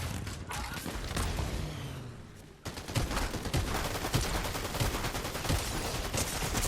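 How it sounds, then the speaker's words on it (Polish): Rapid video game gunfire aimed at the player, dense bursts of close automatic shots that briefly thin out, then return loud and crackling after a short lull. "Oni... Oni strzelają do mnie!"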